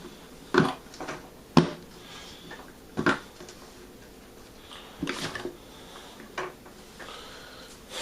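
Plastic lids snapped back onto wine fermentation buckets: several sharp clicks and knocks come a second or two apart, with small rustles and a faint background hiss between them.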